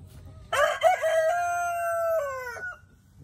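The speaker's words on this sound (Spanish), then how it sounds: "la gallinita y el gallo criollo." A Creole rooster gives a single loud, close crow that rises, holds a long note, then trails off, with faint background noise around it.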